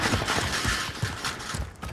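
Sniper rifle fire in Call of Duty: Warzone, a dense run of heavy, thumping shots and reports packed close together, loud and continuous across the whole short stretch.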